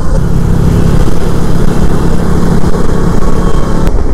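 Suzuki Burgman scooter, freshly serviced, running steadily while riding on a sunny road in Chandpur, with a loud continuous engine drone and heavy wind rush throughout, no pauses.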